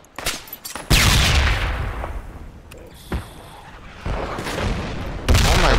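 Frag grenade blasts and gunfire in the tactical shooter Project Reality, several loud booming explosions with rumbling tails, separated by sharp shots and quieter gaps.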